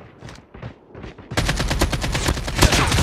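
Gunfire in Call of Duty Mobile: a few spaced single shots give way to a loud, rapid burst of automatic fire that runs to the end, close and dense, with no talk.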